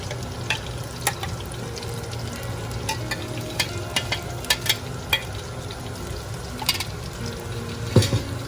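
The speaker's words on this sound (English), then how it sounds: "Stir the masala well into the oil, let it all cook evenly." Biryani masala fries in hot oil with a steady sizzle while a spoon stirs it, producing repeated scraping clicks and taps against the pan, one louder knock near the end.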